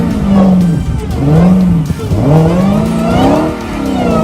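Dodge Hellcat fitted with buggy wheels, its engine revving loudly in rising and falling sweeps, with a faint tire squeal mixed in.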